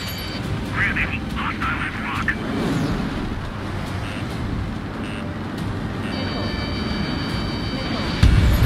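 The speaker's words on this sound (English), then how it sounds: "The bombers are nearing the island." Bomber aircraft fly in the Ace Combat 7 combat flight game, a continuous loud engine roar and broad rumble under talk, with a brief louder low-frequency surge near the end.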